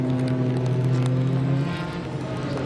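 A Ginetta and a McLaren race car cross the finish line at a circuit, producing a loud, steady engine drone that eases slightly toward the end.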